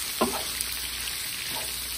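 Galunggong fish frying in a pan, a steady close sizzle and crackle of hot oil throughout, with a couple of faint clinks of a utensil.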